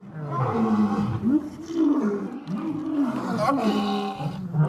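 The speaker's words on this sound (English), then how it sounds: "Here is Hoover, the tiger" A captive tiger roars and growls up close in a sanctuary setting, long rumbling calls rising and falling continuously, with other big cats seeming to answer.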